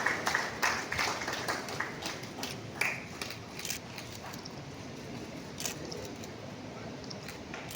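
Audience applause at a Jharkhand public event on sustainable energy, a burst of scattered clapping that is strongest at first and then thins out into a softer murmur of room noise.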